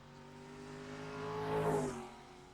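Modified stock race cars accelerate hard on the track at Mesa Marin Raceway in 1998, engines swelling from a steady drone to a loud roar as they pass close by, then easing slightly.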